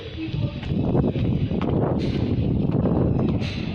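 Steady outdoor wind rushes and buffets the microphone on a hot, sunny day, a continuous broadband roar with gusty swells throughout.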